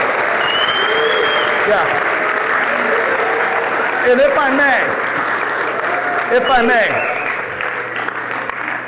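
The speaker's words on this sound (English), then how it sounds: "Could we all please give him a round of applause?" Applause from the audience at a live bird-focused show fills the clip as broad, steady clapping, with a couple of voices talking over it partway through and the clapping thinning toward the end.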